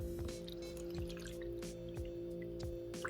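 Water is poured into a Sharper Image aromatherapy diffuser up to its fill line, giving soft, close dripping and small splashes at an irregular rhythm over a faint steady hum.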